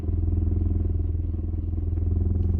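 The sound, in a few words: BMW E39 M5 exhaust rubbing on heat shield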